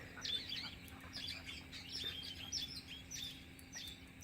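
Numerous birds chirp and tweet outdoors on a hot morning around a feeding area, a busy overlapping chorus of short high calls running continuously with no talking.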